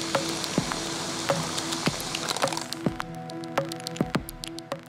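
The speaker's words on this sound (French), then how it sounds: "puis l'eau sort." Water pours from the trigger nozzle of a water purification machine, a close hissing rush with scattered crackling drips, then thinning to sparse splashes and clicks as the flow eases.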